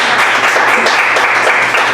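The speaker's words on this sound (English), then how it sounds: "everybody clap really loud for Linus" At a magic show in a gelato shop, an audience claps loudly for Linus, a dense, close burst of applause lasting a couple of seconds.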